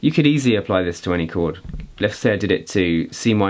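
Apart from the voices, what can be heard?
None of the usual background noises is heard.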